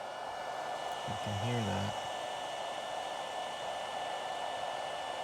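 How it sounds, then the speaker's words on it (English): A power inverter's cooling fan runs on a DIY wireless floating loveseat setup, making a steady, even whooshing hum throughout, with a person speaking briefly over it. "This particular inverter has a fan on it"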